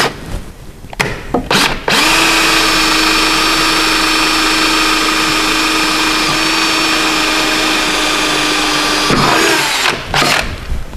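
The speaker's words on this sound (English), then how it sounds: "And I shall drill my first mark straight through into the cross member." A power drill bores through a car's steel cross member while a rally sump and steering guard are fitted, one sustained loud whine of about seven seconds, framed by brief clicks and handling noises before and after.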